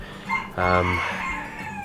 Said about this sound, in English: This rooster's on fine form this morning.